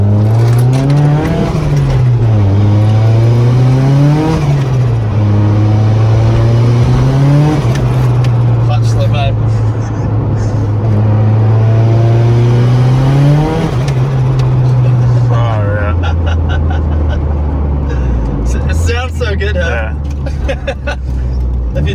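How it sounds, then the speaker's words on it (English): Car engine fitted with a new turbo, revving loudly and closely in repeated rising and falling swells as the driver double clutches back down into second gear, with voices partly under the engine noise. "If you double clutch, you can go back to second, like I just did."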